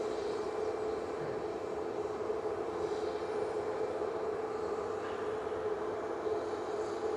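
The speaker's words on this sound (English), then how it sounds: "Loitering EasyJet sparking into life in the background" EasyJet airliner at Manchester Airport, its engines spooling up in the background as a steady broadband roar with a constant mid-pitched whine, fairly distant and unbroken, with no voices.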